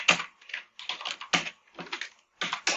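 Computer keyboard typing in bursts of clattering keystrokes, close and fairly loud with brief pauses between runs, while entering commands for a home Internet of Things temperature and humidity project.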